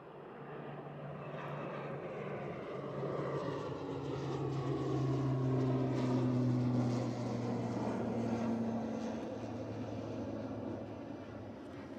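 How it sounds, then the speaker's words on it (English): An ATR turboprop airliner moves at Edinburgh Airport, its propeller engines droning steadily with a low humming tone that swells louder toward the middle and then eases slightly, heard from a distance outdoors. "Oh, ATR's definitely moving."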